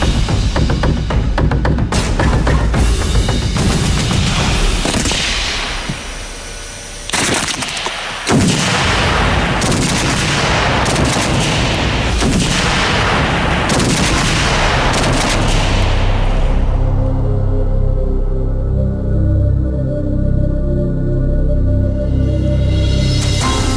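Loud, rapid booming bangs crackle in dense bursts from illegal heavy fireworks, with a brief pause midway, then a long rumbling echo dying away.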